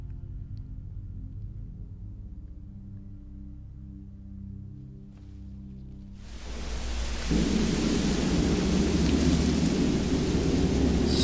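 A thunderstorm with rain rolls in within the zombie game The Walking Dead: The Final Season, low rumbling giving way to a loud, steady downpour hiss that fills the scene with no talking.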